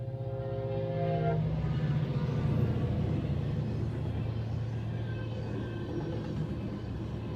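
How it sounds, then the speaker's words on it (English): CSX local freight train J729 passing near Effingham, Illinois, with a loud steady rumble of wheels and cars close by and a horn blast sounding at the start. "This is CSX train J729."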